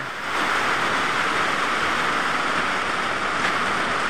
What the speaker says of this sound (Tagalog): Grabe, ang lakas ng ulan dito sa Barangay Bukana